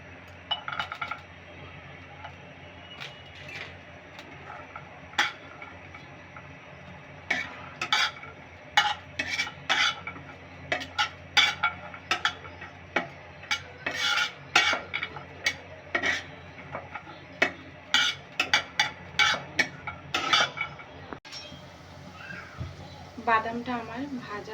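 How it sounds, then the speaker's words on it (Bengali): Nuts frying in ghee in a pan, with repeated sharp clinks and scrapes of a utensil stirring against the metal under a steady low background, some irregular and some in quick bursts. "এরপর আমি কিছু বাদাম দিব, এখানে বাদামটাকে ভেজে নেব।"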